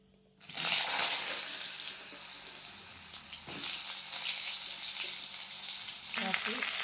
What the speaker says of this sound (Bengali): এখন আমি কড়াইতে কিছুটা সরিষার তেল দিয়েছি। সরিষার তেল দেওয়ার পর আমি আমগুলি ছেড়ে দিচ্ছি।